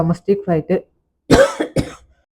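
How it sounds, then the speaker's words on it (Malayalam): A few short spoken syllables, a brief pause, then a close, harsh cough burst followed by a couple of smaller throaty coughs. "എൻ്റെ ഇടയിൽ കുറച്ച് ചുമ വന്നുപോയി"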